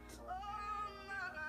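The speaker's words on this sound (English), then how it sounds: "this is my cat." A cat meows in a drawn-out, wavering call, close by and moderately loud, rising and falling in pitch over about a second.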